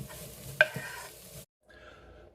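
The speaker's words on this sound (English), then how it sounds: "whack in that crumbled up tempeh and give it a stir around" Mushrooms and crumbled tempeh frying in oil in a pan, stirred with one sharp scrape and a soft sizzle that briefly cuts out, then returns faintly.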